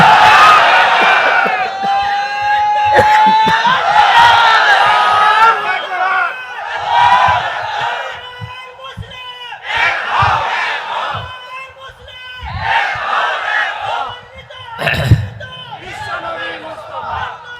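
A crowd at an Islamic sermon (waz) shouts the takbir, Allahu Akbar, in answer to a preacher, with loud repeated bursts of massed voices that swell and fade in waves.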